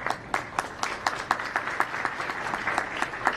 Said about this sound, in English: I believe it deserves a round of applause.